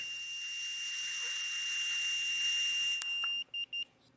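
A breathalyzer's steady electronic tone drones for several seconds as someone blows into it, then breaks into a few short beeps near the end, with no voices.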